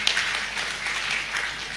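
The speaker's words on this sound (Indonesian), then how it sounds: "tepuk tangan buat beliau" Broadband clapping from a crowd at an official inauguration ceremony for a Parepare acting mayor, applause for the outgoing mayor sustained and fairly steady at moderate level throughout.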